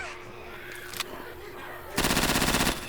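An SMG in Left 4 Dead 2 fires a short, loud, rapid burst lasting under a second, following a single earlier shot and quieter game sounds.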